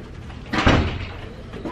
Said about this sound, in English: Mom, you have to close the door yourself.